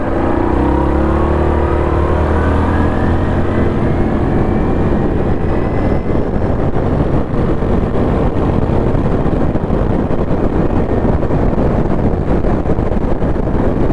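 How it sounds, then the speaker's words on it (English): Loud, constant wind buffets the microphone in a roaring rush, with the engine of a Yamaha Kodiak 700 ATV droning underneath throughout while cruising. "It's so windy right now."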